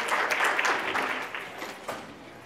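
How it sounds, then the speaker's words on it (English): Meeting attendees giving a round of hand claps at a morning session, a short burst of scattered clapping that swells briefly then thins out and fades. "Let's give yourself a big hand clap for being here."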